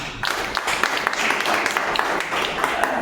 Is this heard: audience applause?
yes